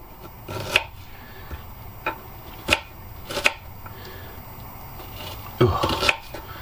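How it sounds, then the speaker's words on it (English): Onions are chopped on a board in a narrowboat kitchen, giving irregular sharp knife taps spaced a second or so apart, fairly close and quiet, with a few louder clustered strikes, with no talk. "as soon as I've cut these onions up"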